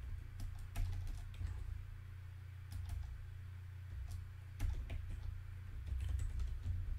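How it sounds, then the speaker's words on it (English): Typing on a computer keyboard, a quiet run of irregular key clicks in bursts over a low steady hum, with no voices. "So when we type in here"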